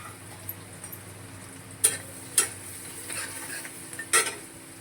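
Garlic and chopped medium tomatoes cooking in a pan for a sev-tomato curry: soft, steady sizzle under a spoon stirring, with three sharp clinks of the utensil against the pan.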